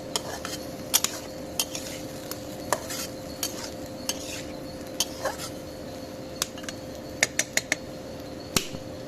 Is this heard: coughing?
no